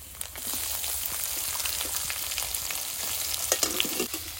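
Chopped onion and garlic frying in hot oil in a village kitchen, a steady bright sizzle with occasional crackles and pops, close and continuous, no voices.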